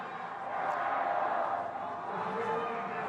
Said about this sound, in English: China getting a big cheer